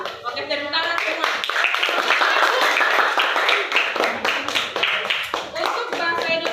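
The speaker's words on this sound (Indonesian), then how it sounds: "Oke, tepuk tangan semua." A classroom of students claps hands together in a lively, dense burst lasting several seconds, with voices mixed in among the claps.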